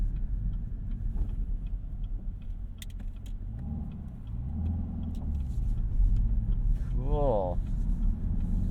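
The supercharged engine of a 2021 Chevrolet Camaro ZL1 drones low and steady from inside the moving car, rising briefly with a whine and a shift, while occupants talk over it.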